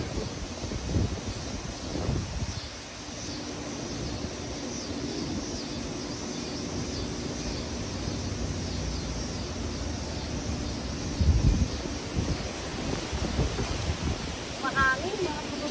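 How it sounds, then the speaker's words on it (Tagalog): A strong wind blows through an outdoor garden, making a constant rushing roar with buffeting gusts against the microphone and some rustling of leaves, continuing steadily throughout. "Mahangin, mga kababayan."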